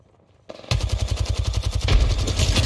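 Rapid automatic gunfire from a weapon in the video game Apex Legends, opening after a brief quiet lead-in and then a steady, loud stream of evenly spaced shots running to the end.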